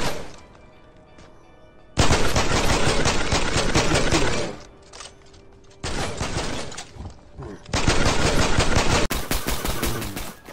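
Bursts of automatic gunfire from a Fortnite battle, loud and close, in several long sustained volleys broken by short quieter gaps.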